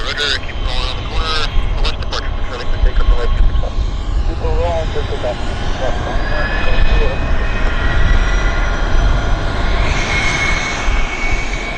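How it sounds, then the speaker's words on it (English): A Mexican-registered Hawker Siddeley business jet departs Vancouver Airport, its engine roar steady and loud for the whole stretch, with rising whining tones as it powers away and someone talking over it. "Another BizJet departure. Hawker Siddeley, Mexican registered."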